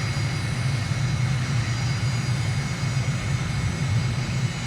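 Jet airliner on landing approach with flaps fully down and speed brake deployed in Microsoft Flight Simulator, approaching N'Djamena, Chad: a steady, loud engine roar and airflow rumble continues without a break.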